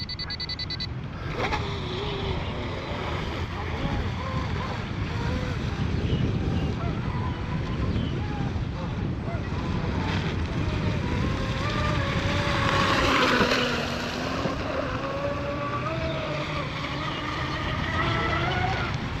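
RC hydroplane boat, a J&R Marine H26, with its engine whining and surging as the throttle is feathered on the water, a steady loud drone with rising and falling pitch sweeps.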